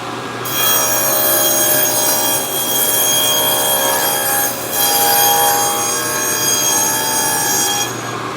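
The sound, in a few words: cutting grooves in plywood for cabinet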